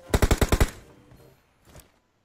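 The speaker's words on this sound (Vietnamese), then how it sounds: "Thằng súng máy à?" In PUBG Mobile, a machine gun fires a rapid burst of six sharp, loud shots, followed by a fading echo and then one more quieter pair of shots shortly after.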